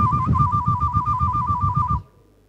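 A voice mimics a telephone ringing, making a warbling electronic trill that holds steady for about two seconds and then stops abruptly, loud and close.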